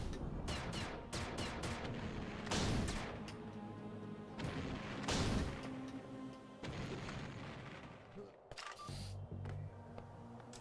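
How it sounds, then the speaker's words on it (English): Grenade launcher firing in the sci-fi video game Perilous Warp, with two heavy booming shots a few seconds apart over a dense game soundscape of hums and clatter, followed by quieter tonal blips. "Grenade launcher."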